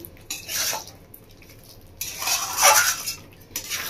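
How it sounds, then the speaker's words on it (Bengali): Ground nuts stirred into doi potol, a Bengali yogurt and pointed gourd curry, in a pan: a few bursts of scraping and clinking utensil against the pan, separated by quieter gaps, with no talking. "বন্ধুরা বাদামটা দিয়ে এবার আমি 1 মিনিট মতো নাড়াচাড়া করে নেবো"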